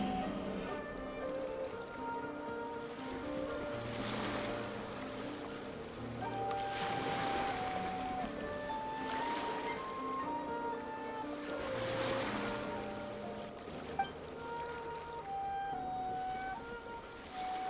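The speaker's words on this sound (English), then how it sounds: "Go to where you can hear the sound of the waves." Ocean waves in the game Genshin Impact wash steadily with soft surging swells, layered under sustained melodic music throughout.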